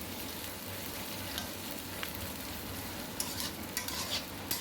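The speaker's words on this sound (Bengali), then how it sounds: "আমি প্রথমে কড়াইতে পেঁয়াজ দিয়ে দিয়েছি। পেঁয়াজটাকে ভালো করে লাল লাল করে ভেজে নেব।" Onions fry in a wok on the way to browning, giving a steady, soft sizzle with occasional sharper crackles and stirring scrapes near the end. It is quiet and close, with no voices.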